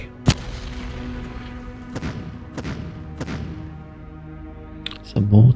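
Artillery fires in the Decisive Campaigns Ardennes Offensive wargame: one sharp shot, then three evenly spaced booms with a humming tone beneath, ending in a heavier rumbling burst.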